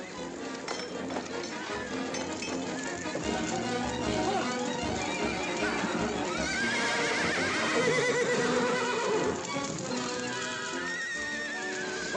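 A horse whinnies amid a busy film scene in a Western setting, heard over hoofbeats, clinking and a dense background mix of sound and voices.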